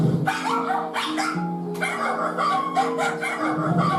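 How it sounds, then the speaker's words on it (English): Several poodles kept in cages in a small kitchen bark and yip in sharp overlapping bursts, close and loud, with a few higher whimpering notes mixed in. "There are 5 cages containing 21 dogs."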